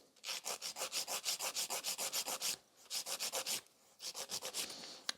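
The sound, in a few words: nail file filing sculpted fiber gel nail extension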